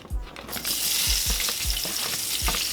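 Roughly chopped whole onion hitting hot vegetable oil in a cast iron skillet, a loud steady sizzle broken by several low thumps as the pieces are stirred and pushed around, close and without talk.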